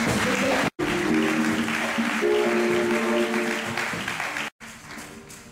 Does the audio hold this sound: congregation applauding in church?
yes